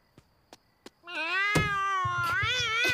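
A cartoon cat in The Simpsons lets out a long, loud, close meow with a wavering pitch, preceded by a few soft clicks.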